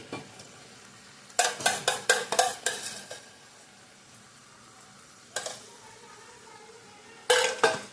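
Soybean biryani masala in a pan being stirred after yogurt is added, heard as bursts of rapid scraping spoon strokes over a soft background sizzle, with quieter gaps between the bursts.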